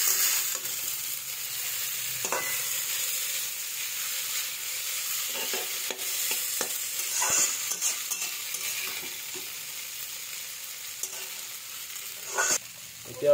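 Chowmein is stirred and fried in a pan with a constant hissing sizzle close by, broken by occasional scraping stirs and utensil clinks.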